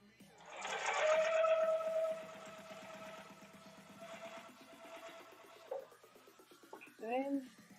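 A sewing machine stitches patchwork quilt blocks together, its motor whirring steadily for several seconds before slowing, and a voice speaks near the end.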